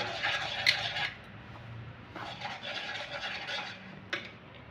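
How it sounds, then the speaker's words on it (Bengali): Mango pulp batter ingredients mixed by hand in a bowl, soft wet squishing and scraping in irregular bursts with a couple of light knocks against the bowl, close and quiet. "সব উপকরণগুলোকে একসাথে মেখে নেব এইভাবে।"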